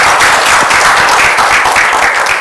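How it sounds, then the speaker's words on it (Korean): An audience applauds at a university lecture explaining the Nobel Prize in Physiology or Medicine, a dense, steady wash of many hands clapping throughout. "큰 박수 부탁드립니다."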